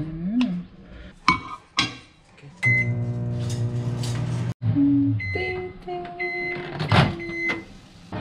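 A microwave oven heats a ready-to-eat retort-pouch tamal for one minute: a steady close humming drone, a sharp clunk, then a run of electronic beeps.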